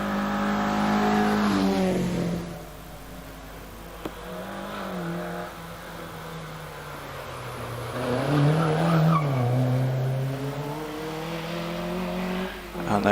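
A frog-eyed Austin-Healey Sprite races through the S bends at the Prescott hillclimb, its engine revving up and down with gear changes and a tire squeal, loud and close, with commentary talk faintly underneath.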